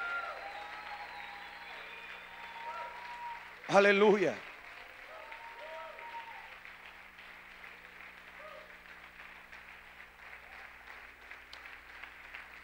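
Sustained applause from a congregation at an apostolic church gathering rolls on evenly, with a brief loud shout from the preacher early on before the clapping continues and slowly softens.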